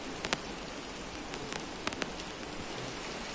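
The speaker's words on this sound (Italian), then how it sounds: "Come sempre piove." Rain falls steadily in Cambodia, a soft continuous hiss with a few sharper drop ticks scattered throughout, quiet and close with no voices.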